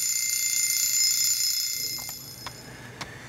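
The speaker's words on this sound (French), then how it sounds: "on va écouter un réveil." A shrill, high-pitched alarm clock rings continuously, then stops, followed by a couple of faint clicks.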